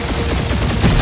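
Dense, continuous barrage of gunfire in the video game Guardians of the Galaxy, overlapping rapid shots blending into one loud, unbroken roar with no pauses.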